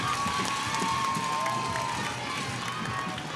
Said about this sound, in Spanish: ¡Ese aplauso para Javier Azuara!